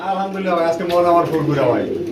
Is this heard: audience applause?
no